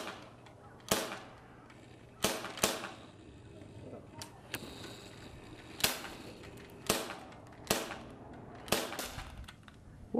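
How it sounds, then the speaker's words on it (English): Sharp, snappy air pistol shots ring out one after another at a plastic bottle, about eight cracks spaced irregularly over ten seconds, fairly close and loud above a quiet background, with no one talking. "Let's shoot the plastic bottle."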